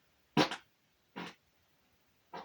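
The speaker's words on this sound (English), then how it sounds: "I also like that fart that I just took there" Three short broadband bursts of flatulence, the first loudest and raspy, followed by two softer puffs spaced about a second apart, close and alone in a quiet room.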